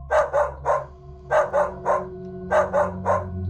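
Several dogs barking at night, with a spooky horror-story feel: three clusters of two or three sharp barks each, fairly close and loud over a low droning background.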